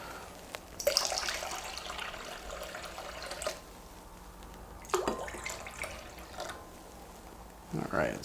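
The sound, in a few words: black tea being poured into punch bowl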